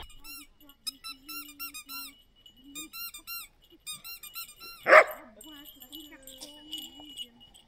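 A dog, called Fifi, plays fetch with a ball, squeaking a toy in quick repeated bursts with an occasional yip or bark, close by, while someone talks over it.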